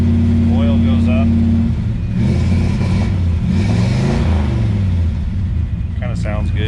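A 1951 Chevy panel truck engine, cold, runs loud and close, its steady harmonic rumble swelling into a brief rev midway, with voices speaking over it at the start and end.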